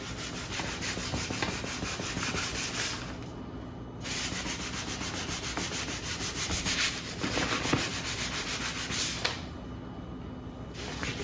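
Hand sanding of wood with a thin sheet of sandpaper, a steady close scratchy rubbing that runs continuously with brief pauses and changes in stroke, loud and alone with no talking.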